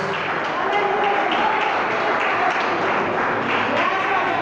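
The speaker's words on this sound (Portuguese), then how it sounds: "Dê uma salva de palmas com glórias a Deus e aleluias." A church congregation applauds, steady dense clapping that fills the room evenly throughout with no pauses.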